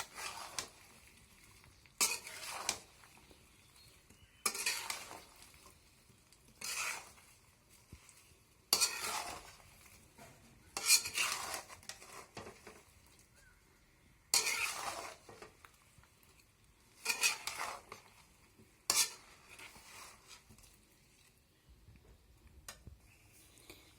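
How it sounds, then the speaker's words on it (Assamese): Mango pickle being turned over and stirred with salt in a container, with several separate scraping, clattering stirs at irregular intervals, close up and without speech. "ভালকৈ এতিয়া তল ওপৰ কৰি লৰাই দিব লাগে।"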